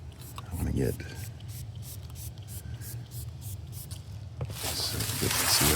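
A hissing aerosol spray bursts out in a couple of short blasts, with soft handling noise between them and a longer spray at the end.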